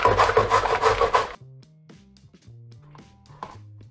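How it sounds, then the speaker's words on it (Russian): Zucchini is rubbed on a coarse grater, giving a loud, rapid rasping scrape for just over a second that then stops. "Первым делом мы натираем кабачки на крупной терке."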